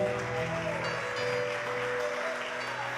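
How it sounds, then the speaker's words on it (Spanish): A church congregation claps together during a worship service, a dense, steady wash of applause lasting a few seconds with music tones sustained underneath. "Denle una ofrenda de palmas a nuestro Dios."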